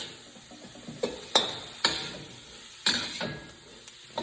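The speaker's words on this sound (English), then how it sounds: "stir fry this till we get it nice and seared on the outside here" Chicken and spices stir-fried on high heat for a quick chicken curry: a soft sizzle under several sharp spatula knocks and scrapes against the pan at uneven intervals.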